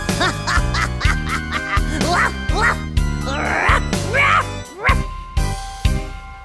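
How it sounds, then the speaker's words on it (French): High, yappy puppy barks come in a quick series over a steady musical backing of a children's Halloween song, with a voice joining in. "Est-ce que tu aboies, est-ce que tu aboies, Toby le chiot, Toby le chiot?"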